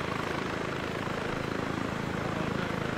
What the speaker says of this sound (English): Goddamn helicopters!